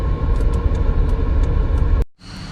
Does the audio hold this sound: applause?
no